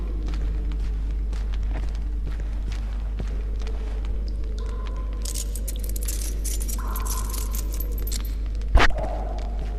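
Keys jangle in The Witcher 2, a bright metallic rattle that thickens midway and runs for several seconds over a steady low game hum, followed by a single sharp thud near the end.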